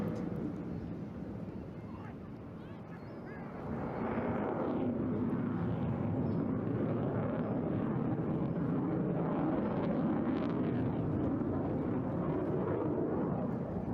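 Jet aircraft flying an air display, a broad continuous engine roar that swells louder after a few seconds and holds steady, distant and rumbling, with no talk over it.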